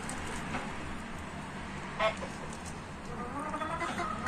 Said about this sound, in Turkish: Bak tavuklar çekti yanına.